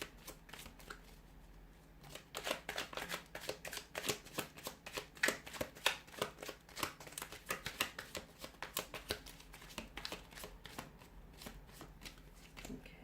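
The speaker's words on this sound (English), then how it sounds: "So I'll give the cards a shuffle here" Tarot cards are riffled and shuffled by hand at close range, a quick series of crisp slaps and flutters after a quiet start, fading near the end.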